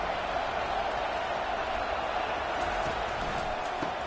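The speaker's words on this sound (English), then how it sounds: "Listen to the crowd energy here in the early going." Broad, steady roar of a college football stadium crowd during the early going of a game, continuous and dense with no clear individual voices, a loud wash of cheering filling the whole clip.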